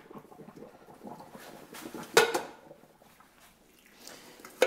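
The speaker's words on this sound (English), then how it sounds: "We'll drain them off in a colander here." Cooked potatoes are drained in a colander, a soft patter of water and wet pieces that ends in one loud splashing pour. A few light clinks follow.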